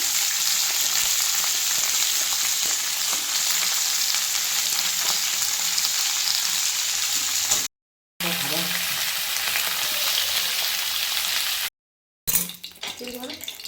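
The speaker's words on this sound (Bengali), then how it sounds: "পেঁপেটাও দিয়ে দিচ্ছি" Papaya pieces for Bengali sukto fry in a pan with a loud, steady sizzle heard up close, briefly interrupted twice, with utensil clinks and stirring near the end.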